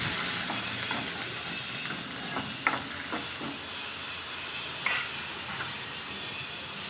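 Finely chopped onion frying in hot oil with asafoetida, a steady close sizzle with occasional soft stirring clicks and taps.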